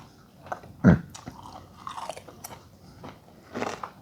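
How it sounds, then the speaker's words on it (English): Crisp crunching bites of crispy fried coconut shrimp and chewing up close, a few sharp crunches with quieter chewing between, with no one talking. "I wish y'all could hear this crunch."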